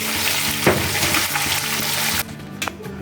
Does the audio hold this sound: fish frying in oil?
yes